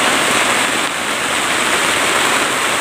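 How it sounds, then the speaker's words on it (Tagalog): Heavy, cold December downpour in the mountains, a loud unbroken roar of rain hitting surfaces, steady and close throughout. "Sobrang lakas ng ulan."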